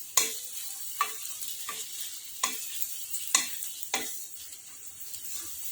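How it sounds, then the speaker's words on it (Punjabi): Okra and potato curry sizzles in a frying pan, with six or seven sharp scraping strokes of stirring spaced about a second apart over a steady close-up crackle, no voices. "ਸਬਜ਼ੀ ਨੂੰ ਮਿਕਸ ਕਰਕੇ ਆਪਾਂ 1 ਮਿੰਟ ਸਬਜ਼ੀ ਨੂੰ ਸੇਕ ਲਵਾ ਲਵਾਂਗੇ"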